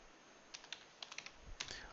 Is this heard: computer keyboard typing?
yes